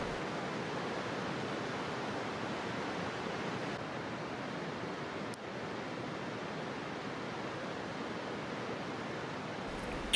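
A river pours in a steady, broadband rush of water, faint and unbroken for about ten seconds.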